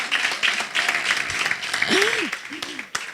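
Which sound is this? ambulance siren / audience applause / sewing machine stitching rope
audience applause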